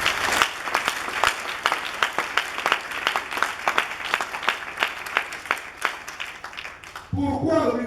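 A church congregation claps steadily in rhythm, sharp repeated claps filling the room for several seconds before voices and singing take over at the end.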